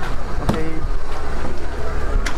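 Tour boat at Phi Phi Island, Thailand, heard as a steady broadband rumble of engine, water and wind, with a few brief knocks and bumps over the noise.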